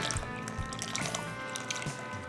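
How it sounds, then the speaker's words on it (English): A wet mixture for pumpkin cinnamon roll dough is poured into a well of dry ingredients, giving faint, soft dripping and squishing sounds close by, with no talking. "going to pour my wet mixture in."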